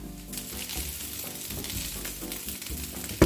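Corn kernels fry in a frying pan until golden, giving a loud, continuous sizzle and crackle close up, with no talking.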